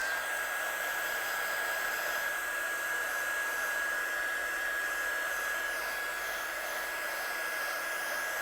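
Handheld heat tool blowing steadily on a handmade card, a constant loud whooshing hum with a thin whine running unbroken throughout, no talking.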